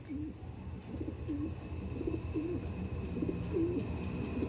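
Pigeons coo steadily in a repeated, rolling rhythm, close and clear against a constant low background hum, with no one speaking; the birds are bred without leg bands.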